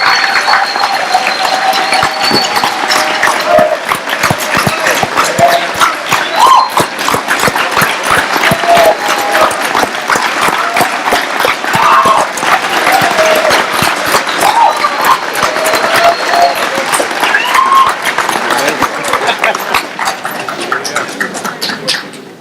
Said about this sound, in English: let's give her a rousing round of applause for being here and what she's done